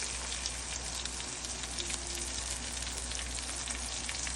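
Green chillies, ginger and curry leaves fry in a pan for a sabudana khichdi, giving a steady close crackling sizzle that stays even throughout with no talking.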